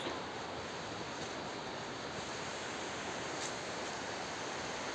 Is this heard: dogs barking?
no